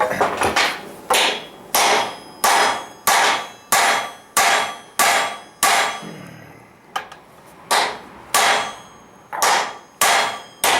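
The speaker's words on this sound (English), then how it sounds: "the big hammer." A heavy hammer strikes a hot rivet again and again on an anvil stand for a 150-pound Trenton anvil, in a steady, loud rhythm, each blow ringing with a sharp clang, with one brief pause midway.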